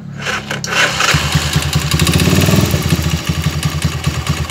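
A freshly overhauled motorcycle engine cranks briefly, then catches and runs with a steady, rapid, loud putter close by, with a bit of scraping noise mixed in.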